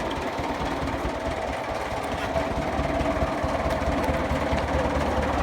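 A 1960s tractor runs steadily with a vintage saw bench mounted on its three-point linkage and driven from the PTO, a loud continuous engine drone with rumbling vibration and no cutting heard.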